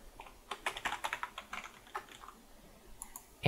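A username and password are typed on a computer keyboard in a short burst of quick, close key clicks, followed by a pause and a louder thump at the end.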